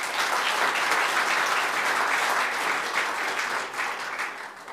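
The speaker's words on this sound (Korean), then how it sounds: "박수 한번 해주십시오" Sustained applause from a crowd at a Korean political party gathering in South Jeolla, a dense even wash of clapping that fades a little toward the end, with no talk over it.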